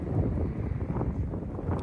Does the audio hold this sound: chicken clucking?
no